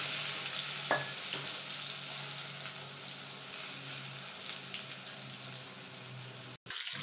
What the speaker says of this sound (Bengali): বেগুনটা ভেজে আগে তুলে নেব।